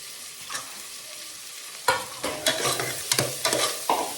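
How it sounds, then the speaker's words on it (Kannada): Green chillies and garlic sizzle in a pan as a spoon stirs them, quiet at first, then louder with sharp scraping clicks and a steady frying hiss, no voices. "ಇದು ಇನ್ನೊಂದು ಸ್ವಲ್ಪ ಚೆಂದ ಫ್ರೈ ಆಗಲಿ"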